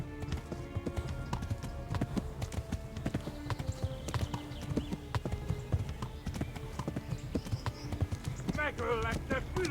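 Rapid, steady hoofbeats clatter throughout like a galloping horse, with low rumbling underneath and a short whinny near the end, in the video game Kingdom Come: Deliverance.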